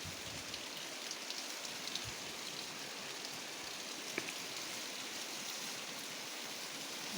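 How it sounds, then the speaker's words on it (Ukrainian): Steady rain falling on a surface, a continuous soft hiss with occasional louder drops, no voices. "Чуєте, який дощик йде?"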